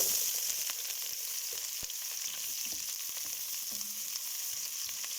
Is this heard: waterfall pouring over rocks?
no